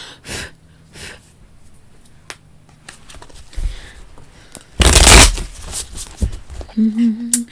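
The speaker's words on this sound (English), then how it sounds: "For those that enjoy card shuffling, a little ASMR for you." Tarot cards shuffled by hand during a live reading, heard as brief riffling bursts amid quiet room noise, breaths and sniffles, with one loud, close shuffling burst near the middle and a short tonal sound at the end.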